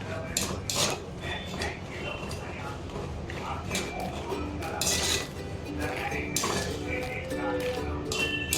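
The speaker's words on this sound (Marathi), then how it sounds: "पिस्ता आहे तो मी व्यवस्थित भाजून घेते तुपामध्ये" Pistachios are roasted in ghee in a pan, with a spoon stirring and repeatedly clinking against the metal in an irregular rhythm, close up and fairly loud, and a voice talking now and then underneath.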